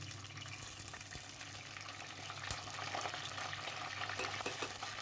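Mustard seeds, urad dal, fenugreek, dried red chillies and curry leaves frying in oil in a clay pot for dried-fish curry, a steady soft crackle with scattered pops and stirring scrapes at close range, no voices.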